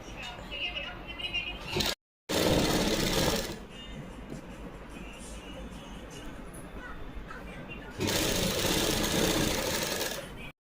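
A sewing machine stitching lace onto a dupatta, its rapid mechanical rattle running throughout with loud stretches near the start and end and a brief gap, a quieter hum in between.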